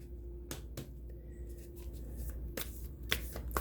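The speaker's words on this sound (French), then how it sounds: "Mon Dieu, les cartes, elles n'arrêtent pas de tomber." Tarot cards being shuffled and dropping during a reading, heard as a handful of sharp papery snaps and flutters over a steady low room hum, close and fairly quiet with no talk.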